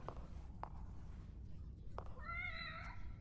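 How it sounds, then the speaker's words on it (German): A cat meows in the video game The Evil Within: The Assignment, one drawn-out meow near the end after a few soft thuds, faint against a low ambient hum. "Komm her, Katze."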